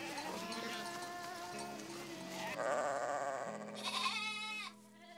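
Sheep on a salt meadow farm bleat repeatedly, several overlapping calls close by, one after another, with a clear wavering bleat rising near the end.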